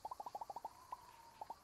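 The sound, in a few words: bird call in video game Alba: A Wildlife Adventure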